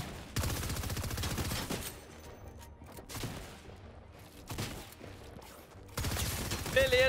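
Bursts of rapid submachine gun fire in a video game come in several loud volleys separated by brief pauses, with a sharp electronic tone near the end.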